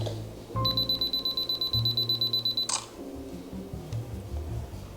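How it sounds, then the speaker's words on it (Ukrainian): A Canon G7X compact camera's self-timer beeps rapidly and steadily for about two seconds, loud and close, then stops with a click. "як то виключити той таймер?"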